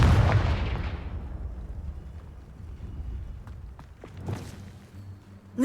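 A loud Confringo spell explosion in Hogwarts Legacy, one heavy boom at the start whose rumble slowly fades, followed by a quieter later burst.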